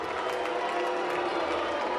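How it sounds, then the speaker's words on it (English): An audience reacting to a contest result, with a steady wash of crowd noise, cheering and some applause, heard at moderate level and unbroken. "Some of the people in the audience are cheering, but some of them are booing."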